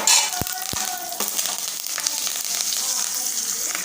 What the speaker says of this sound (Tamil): கடுகு வெடிக்க ஆரம்பிக்குது